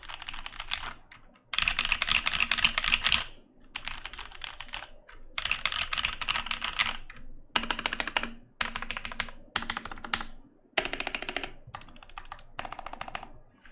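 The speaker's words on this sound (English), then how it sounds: "this one has used tactiles with a nickel plate. So this is a much more hollow, kind of clacky sound." Typing on an acrylic keyboard with tactile switches and a nickel plate, with hollow, clacky keystrokes in fast bursts separated by short pauses, close and crisp.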